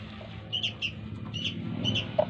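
Pet birds chirp near a home in short, faint bursts of high tweets over a low household hum, with a few scattered calls spaced through the moment.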